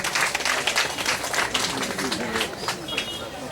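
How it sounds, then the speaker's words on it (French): Audience at a 90th birthday celebration applauds with dense, steady clapping, loud and sustained, with voices mixed in beneath. "Je vous demande d'applaudir pour Mémé Fagla, Germaine"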